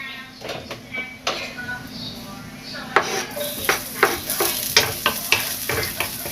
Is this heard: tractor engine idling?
no